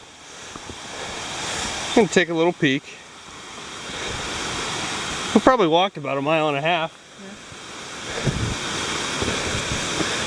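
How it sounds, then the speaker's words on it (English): Constant rushing water from a small waterfall on a hiking trail at Killington, Vermont, roars close by while two people briefly talk over it. "we got this nice little waterfall"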